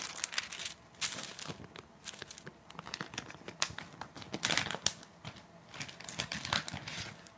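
Wax paper crinkles and rustles as it is handled during candle wax chopping, with continuous close crackling bursts and sharper crunches over several seconds.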